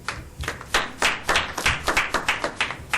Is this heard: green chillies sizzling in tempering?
no